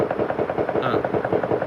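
Distant gunfire rattles in fast, repeated bursts from somewhere away from a poolside spot, a steady rhythmic popping that carries through the whole short stretch.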